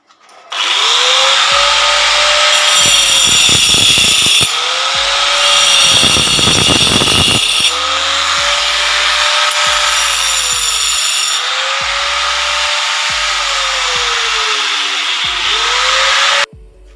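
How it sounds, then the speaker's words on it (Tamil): A power cutting machine slices into a wall to open a space for a three-by-three post for polycarbonate cantilever roofing, whining loudly and steadily for the whole stretch, with the pitch dipping and recovering as the blade bites and grinding bursts in between. "மிஷினில் வந்து கட் பண்ணிட்டோம்"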